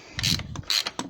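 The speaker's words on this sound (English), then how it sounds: "with the aid of a 24mm socket and an extension, we can now undo that" A ratchet on a 24mm socket with an extension turns a bolt on a 2005 Volkswagen DSG gearbox, giving two short close bursts of metallic clicking followed by a lighter click.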